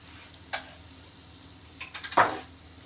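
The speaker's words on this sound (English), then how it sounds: "Browning the beef off." Beef seasoned with salt, pepper, thyme, rosemary and garlic browns in a pan, with a low sizzle under a couple of scraping, clattering stirs and a brief louder burst near the end.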